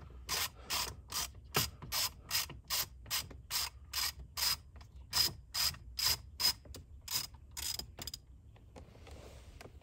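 A ratchet clicks in steady, evenly spaced bursts while backing screws out of a 2020 Chevy Silverado dashboard, sharp and close, about a dozen quick strokes before stopping, with no talk.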